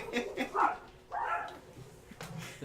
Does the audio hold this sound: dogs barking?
yes